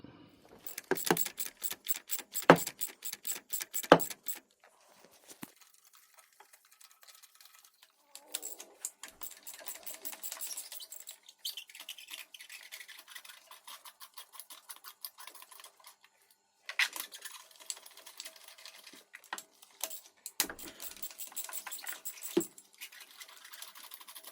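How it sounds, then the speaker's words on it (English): A 3/8-inch drive socket ratchet clicks rapidly in bursts while spark plugs are undone on a Nissan Qashqai engine, the close, sharp ticking separated by quiet pauses and fainter handling noises. "So we can now undo our spark plugs and pull them out"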